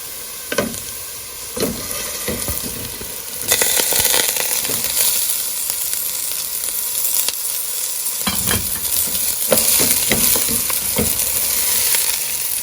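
Rice dropped into a hot pan for rice pilaf, then stirred, with scraping strokes over a constant loud sizzle that rises sharply once the grains go in and carries on through repeated stirring, close and with no talk.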